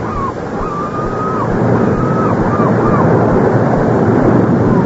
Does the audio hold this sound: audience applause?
no